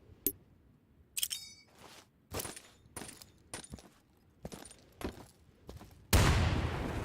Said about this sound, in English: Roll a grenade under that wooden fence.